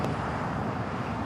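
An Iberia Airbus A350 arrives at Los Angeles International Airport, its steady broadband jet roar held at an even level throughout, with no voices.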